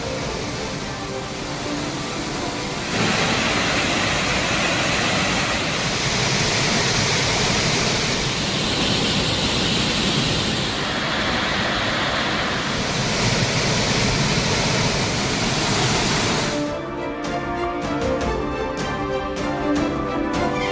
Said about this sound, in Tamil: தொடர் மழையால் தேனி மாவட்டம் கும்பக்கரை அருவியில் வெள்ளப்பெருக்கு.